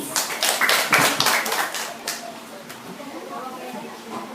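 Small classroom audience at a class debate claps for a speaker in a brief burst that peaks within the first second and fades, followed by a voice beginning to speak as the clapping trails off.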